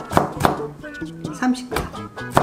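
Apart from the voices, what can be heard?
chopping bell pepper with a knife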